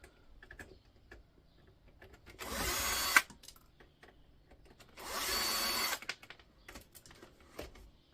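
A power drill backs screws out of a Sony 5.1 full digital amplifier during a teardown. It runs in two separate whirring bursts of about a second each, with small clicks and handling noises between them.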